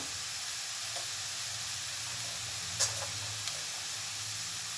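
Asafoetida hits hot oil in a pan for a cowpea vegetable dish, giving a steady, close sizzling hiss with one brief sharp pop partway through.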